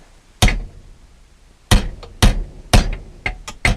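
Hammer blows ring out in a cramped, cluttered workshop crowded with toolboxes and a drill press, six sharp metallic strikes spaced irregularly, the last few coming in quicker succession, loud and close with no talk.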